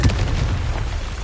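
A Confringo fire spell bursts in Hogwarts Legacy, a loud, deep booming blast with a rumbling low-end tail that stays dense and heavy for about a second, no voices over it.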